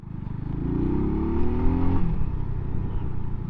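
A 2024 Mutt DRK 250 motorcycle on knobbly tyres accelerating on the road, its raspy engine note climbing through the revs, then settling into a steady drone, close and fairly loud.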